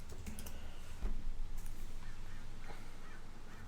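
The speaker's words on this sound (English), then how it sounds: "let's see what happens if I type in overfitting" Quiet keystrokes on a computer keyboard while a search term is entered into MATLAB: a few soft, scattered clicks over a low background hum, with no voices.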